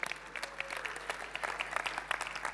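Applause for Uganda delegates at an African forum on displacement: steady, fairly faint clapping from a crowd over a short stretch.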